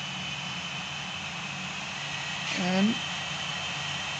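A MiG-19 jet engine held at full throttle in the video game Gunship III, a steady whining roar with a brief swell partway through, while someone speaks a word over it.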